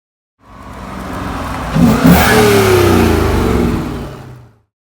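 A 2017 Ford Mustang GT's Coyote 5.0 V8 with a full MBRP aftermarket exhaust starts up and revs hard with a loud, throaty exhaust roar, holding high for a few seconds before dropping away.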